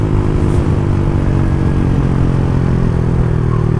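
A Honda Start 160 motorcycle engine runs loud and close, a steady throbbing idle-to-rev drone holding evenly throughout, no voices.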